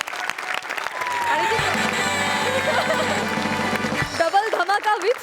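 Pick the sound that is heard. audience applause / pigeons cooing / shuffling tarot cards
audience applause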